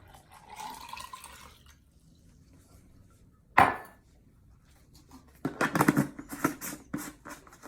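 Water is tipped into a plastic supplement shaker bottle, first a soft trickle, then a sharp knock, then a burst of splashing and gurgling pours, close and moderately loud.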